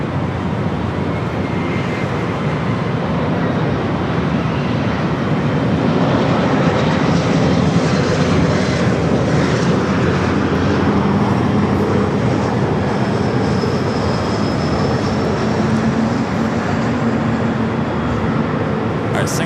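Airliner engines roaring steadily at LAX near runway 24 Right, a loud sustained jet rumble and hiss that holds throughout with slight swells, distant radio chatter faintly underneath.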